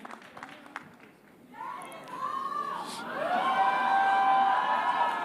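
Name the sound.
audience applause and cheering for Yash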